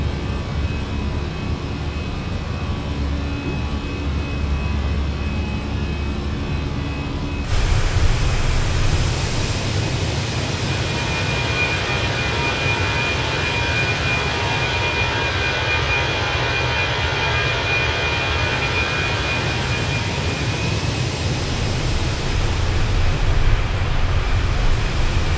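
Airbus A320 jet engines at climb thrust in a flight simulator game, a loud broadband roar that jumps up sharply partway through and then holds steady, with no talk.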